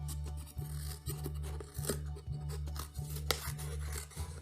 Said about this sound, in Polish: Taki talerzyk przecinamy na pół.